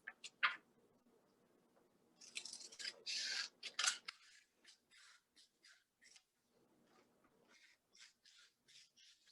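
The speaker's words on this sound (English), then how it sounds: "I'll grab my scissors and I'll cut that rectangle off" Scissors cutting a square from a sheet of paper for a 3D snowflake craft, a run of crisp close snips and crunchy slicing strokes in quick irregular bursts, fairly quiet.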